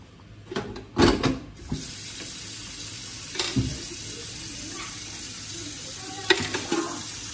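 Water runs and splashes at a sink with clinks of dishes, a few louder clattering bursts early on, over a steady background hiss.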